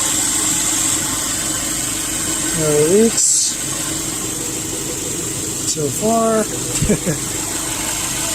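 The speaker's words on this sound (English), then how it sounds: "Got everything idling." A 2010 Subaru Impreza with a freshly installed replacement engine idles in a steady, close mechanical hum, while someone talks over it and a few brief clanks and squeaks sound from work around the car.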